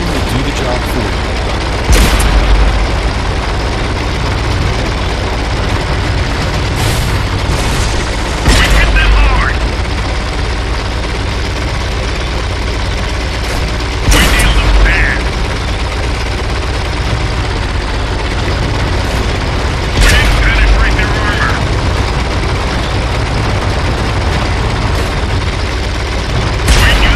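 Tank firing on the move in World of Tanks, with booming cannon shots roughly every six seconds over a constant rumbling engine drone, while a voice talks throughout.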